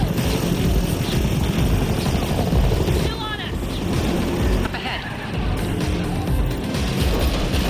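A loud, steady helicopter rotor roar fills the whole stretch, with a chopping drone and scattered bursts of game noise layered on top, from The Matrix Awakens Unreal Engine 5 tech demo.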